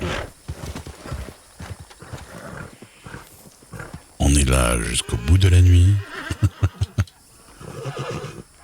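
A horse in a video game whinnies loudly during horse training and its hooves clatter in a quick gallop rhythm, mixed with someone talking over the game sounds.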